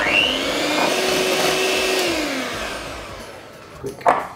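Electric mixer whipping plant-based vanilla cream, a loud continuous motor whir whose pitch shifts and then winds down, followed by a couple of knocks, with no voices.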